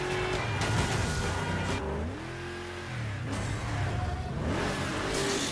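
A car engine in the video game Burnout Paradise revs hard and loud, with pitch climbing, dropping and surging again in repeated bursts as the car accelerates through the city, and no talking.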